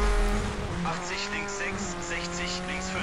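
A Citroën C4 rally car in the video game Colin McRae: Dirt, engine droning steadily at high revs with brief tire noise, while someone speaks over it.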